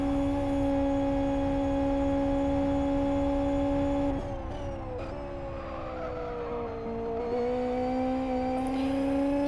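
Race car engines in the Live for Speed racing game drone with a steady high whine that dips and shifts pitch as the cars work through a lap, loud and continuous with no talk.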